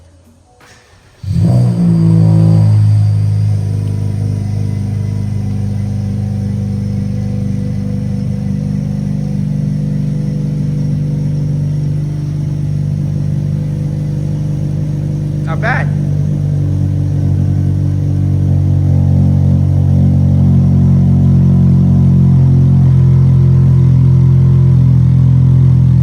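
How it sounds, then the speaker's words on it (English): A 2025+ Honda Civic fitted with an aftermarket downpipe cranks and fires up, then settles into a loud, steady, close exhaust drone that swells slightly with throttle, and someone speaks briefly once partway through. "drop the car down, start the car, go out for a test drive"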